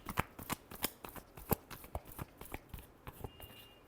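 Tarot cards shuffled by hand, a quick run of about a dozen crisp riffling snaps in uneven rhythm, close and fairly quiet, with no talking.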